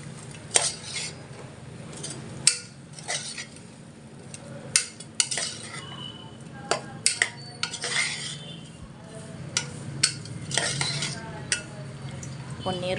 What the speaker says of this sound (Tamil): ஸோ இது எல்லாத்தையும் நல்லா வதக்கி விட்டுடலாம்